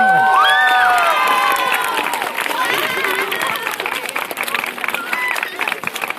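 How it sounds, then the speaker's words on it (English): An outdoor crowd with schoolchildren applauds and cheers for Chicago Department of Transportation workers at a street sign dedication, loud at first with shrill voices and whistles, then thinning into scattered clapping and chatter. "So give them a round of applause."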